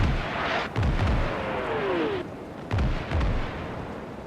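Mortar rounds landing in the wargame Armored Brigade II: several heavy, booming impacts in two clusters, with a faint whistling sweep between them, at moderate distance and with no voices.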